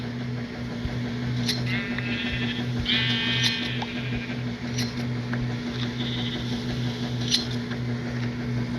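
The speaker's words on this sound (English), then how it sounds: "I'm pressing the shear the sheep button." Sheep being sheared in Minecraft give short, thin bleats over a steady low mechanical hum, with a few small clicks and pops scattered through.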